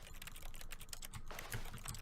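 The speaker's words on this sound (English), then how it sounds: "Every time I click, it sounds like a keyboard press." Faint, rapid clicks from The Stanley Parable video game sound like keyboard key presses, tapping irregularly over a low background hum.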